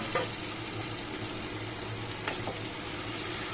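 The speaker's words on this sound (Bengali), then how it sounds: "আলুগুলো দেখো কেমন লাল লাল করে ভাজা হয়ে গেছে, এরকম লাল লাল ভাজা হয়ে গেছে। এর মধ্যে আমি আদা জিরে আর ধরে অ্যাড করে দিচ্ছি।" Potatoes fry in a pan with ginger and cumin tossed in, giving a steady, close, moderately loud sizzle with a few brief stirring clicks and no voices.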